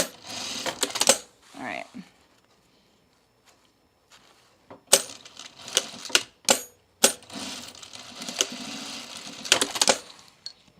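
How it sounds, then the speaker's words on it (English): A household sewing machine stitches scrap fabric in several short, rapid bursts of mechanical clatter separated by quiet pauses, close by, with a person briefly speaking at the start. "Let's actually sew a little bit on my scrap fabric here."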